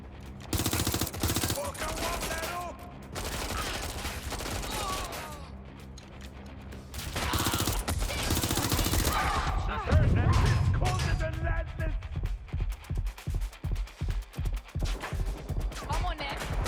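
Gunfire in the Watch Dogs: Legion video game: loud, close automatic bursts and heavy volleys, ending in a fast, regular string of single shots repeating many times in a row.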